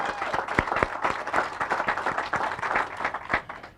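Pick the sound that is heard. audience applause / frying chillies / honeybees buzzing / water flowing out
audience applause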